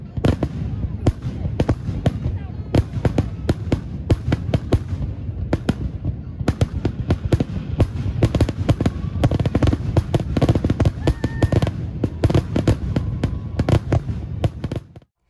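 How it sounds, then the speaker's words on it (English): A fireworks show launched from a barge on a lake in the Lake Orion community, with a continuous barrage of sharp distant booms and crackles, dense and irregular, for the whole stretch. "Ace Pyro started the show at 10 o'clock with the fireworks being launched from a barge on the lake"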